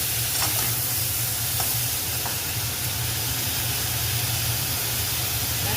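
Vegetables frying in a little oil give a steady, dense sizzle and hiss that carries unbroken throughout, with faint stirring scrapes now and then and no voices.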